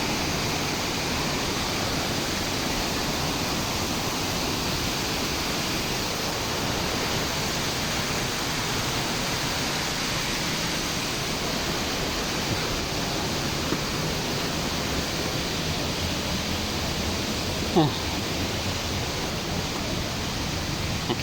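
Natalay Falls, a waterfall reached on a hike to a hidden falls, roars as a steady, dense broadband rush that holds constant throughout, close and fairly loud, with no talking.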